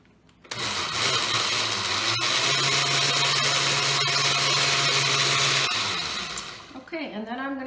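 A countertop blender pulses vinaigrette ingredients for a winter salad, a loud, steady whirring motor roaring for about five seconds before winding down, followed by brief talking.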